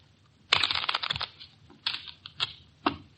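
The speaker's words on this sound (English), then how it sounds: "Here's a new deck. Shuffle them, Mitch." Brisk riffling clatter of cards being shuffled, a burst of rapid flutters followed by a few shorter, sharper snaps, close by with no talking.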